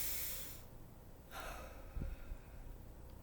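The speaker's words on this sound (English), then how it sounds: "we're going to take another deep breath." A slow, deep breath outdoors on a forest walk, a soft airy inhale followed by a longer exhale, faint and close with no talking.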